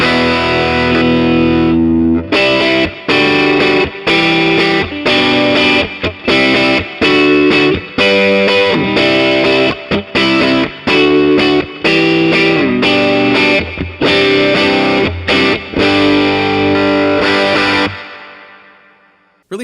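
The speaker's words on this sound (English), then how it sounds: "Let's do just like an aggressive overdrive." Electric guitar through a Benson preamp set to heavy overdrive plays chopped, stop-start chords and riffs, loud and gritty, ending on a decaying ring with no talking.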